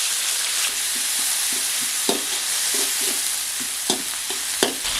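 Crushed shallots and green chillies fry with a steady, close sizzle in a pan, broken by several sharp stirring clacks and scrapes of a spoon against the metal.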